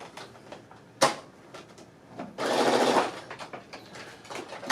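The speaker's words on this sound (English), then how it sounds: "And sew that down at the seam." A sewing machine runs a short burst stitching down the seam of a handmade drawstring waistband with elastic, a brief whirring run framed by light clicks and fabric handling.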